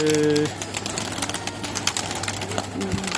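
Young tumbler pigeons, newly flying birds, in a loft in Antalya, heard as soft cooing and wing rustling close by, preceded by a brief steady tone at the start.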